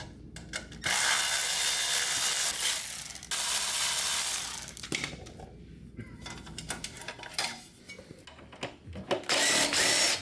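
A ratchet works on the exhaust bolts of a BMW R1200 GS motorcycle in close, busy mechanical bursts, with quick clicking and turning broken by short pauses.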